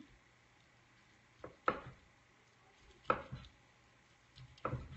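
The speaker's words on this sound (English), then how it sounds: "The breast, I will cut into slices." A knife slicing through boned spatchcocked chicken breast on a cutting board, three distinct soft chops spaced evenly apart in a quiet room.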